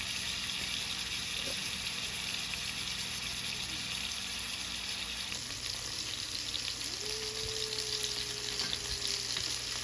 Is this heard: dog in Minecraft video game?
no